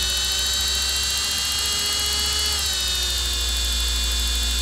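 A Wolf Jahn Geneva-style 8mm watchmaker's lathe motor spinning up toward about 5,000 RPM gives a steady, bright, high-pitched whir with a hum beneath it, shifting slightly in pitch partway through.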